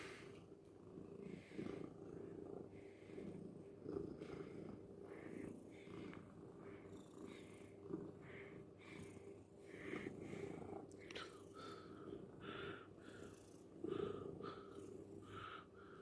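A pet cat purrs in a steady rumbling rhythm very close to the microphone, soft and continuous, with occasional quiet snuffles and breaths.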